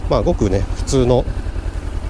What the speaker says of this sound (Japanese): 2気筒のエンジンって感じがします。